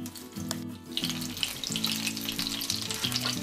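Steady, crackling sizzle of pork chops frying in a pan in a REDMOND multicooker, continuous and fairly close, with a low mechanical hum underneath.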